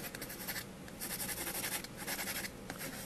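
A pencil sketches lightly on paper in quick, continuous scratchy strokes, close and fairly quiet, with brief pauses between bursts and no talking.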